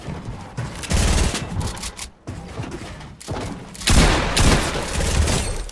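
Fortnite gunfire during a 1v1 build fight on a custom map, sounding as rapid bursts of shots that come and go across the moment, with loud clusters near the start and a heavier barrage toward the end.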